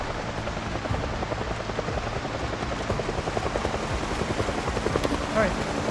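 A helicopter hovers overhead in the video game Project Zomboid, its rotor thumping in a fast, steady pulse under a rain-like wash, moderately quiet and continuous throughout.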